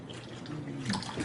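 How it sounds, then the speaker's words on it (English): Water pours steadily onto a tea bag during a Kangen water demonstration, a continuous splashing trickle of liquid that swells slightly toward the end, with no talking. "Watch what happens when I go to pour again."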